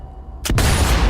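A sniper rifle shot aimed at a tank's gun port in Sniper Elite 4 cracks out as one sudden loud blast after a quiet lead-in, followed by a sustained roaring echo.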